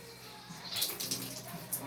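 Water sloshes and splashes inside a portable washing machine, a series of soft irregular wet churning bursts heard close up without talk.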